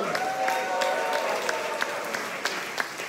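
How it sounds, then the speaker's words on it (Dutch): A jazz club audience claps steadily for a few seconds, a dense mass of many hands, with a few louder individual claps standing out. No voices come through. "Een groot applaus voor Perdido!"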